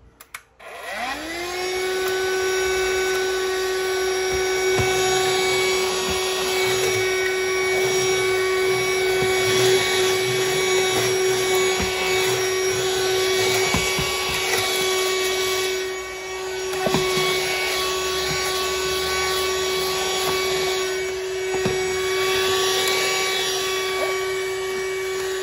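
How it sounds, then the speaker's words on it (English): A small vacuum cleaner starts up and whines continuously at a steady high pitch, with faint rattling and scraping as it sucks up spilled salt. "I grabbed our little vacuum because there's a bunch of salt here that"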